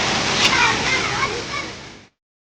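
Broad, loud rush of the Manalaru waterfall pouring down with people bathing in it, a dense steady wash of splashing water that cuts off abruptly after two seconds.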